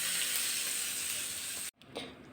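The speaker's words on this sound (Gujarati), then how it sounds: "આ બધા જે આપણે વઘાર છે એને આની અંદર નાખી દેવાનું છે" A hot tempering of red chilli and sesame seeds crackles and sizzles loudly and steadily as it is poured into coconut chutney, then cuts off abruptly, leaving a faint clink and quiet room sound.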